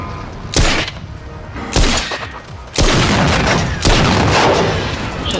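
An experimental weapon in the video game Generation Zero fires four heavy, booming shots at roughly one-second intervals, each with a sharp crack and a long rumbling tail, loud and close.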